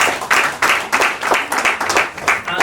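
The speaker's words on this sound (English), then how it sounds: "Please, let's give him a round of applause." A small workshop audience gives a round of applause for an event organizer, with uneven bursts of clapping rising and falling across the room at moderate volume and no voices.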